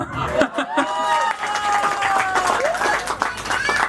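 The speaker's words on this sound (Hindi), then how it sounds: "तालियां" Audience clapping and cheering at a sangeet ceremony, a lively crowd sound that runs through the whole moment, mixed with voices and bright tonal music.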